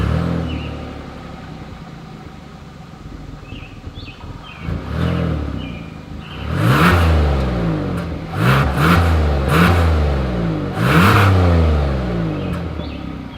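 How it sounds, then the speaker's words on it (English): A 2022 Hyundai Palisade SUV engine idles with a low rumble, then revs hard several times, the exhaust roaring up and settling back between bursts. "As always, here is that exhaust clip."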